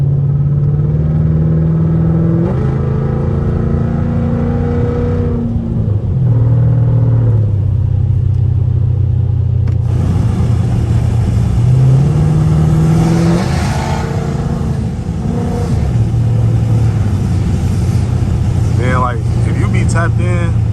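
Catless Dodge Charger SRT engine drones loudly and steadily on a rainy drive, its pitch rising and falling through shifts and accelerations, with a continuous low rumble throughout.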